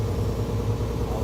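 MTU 396 diesel engine running after a W6 rebuild, a steady low mid-range rumble with an even pulsing throb, loud and close, with no voices.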